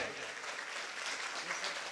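Audience clapping at a live talk event, a dense, fairly faint wash of many hands applauding continuously throughout, with no voices standing out.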